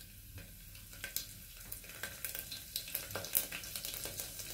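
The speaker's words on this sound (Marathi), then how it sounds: "मोहरी छान तडतडली ना, त्याच्यानंतर आपल्याला लसूण टाकायचं आहे" Garlic hitting hot oil with mustard seeds in a pan, a steady sizzle broken by frequent sharp crackles and pops, close and fairly quiet, with no talking.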